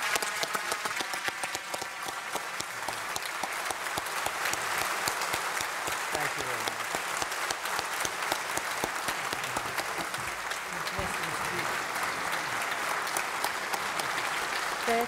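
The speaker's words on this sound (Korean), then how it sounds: "우리 의원들과 계속해서 박수로 서로 인사로서 화답을 하고 있는데요" Lawmakers in the South Korean National Assembly applaud after President Trump's speech, sustained dense clapping from a large audience that continues steadily throughout, with voices audible beneath it.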